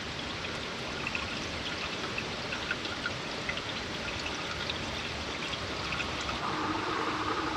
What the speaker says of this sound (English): we're going to put brand new antifreeze in this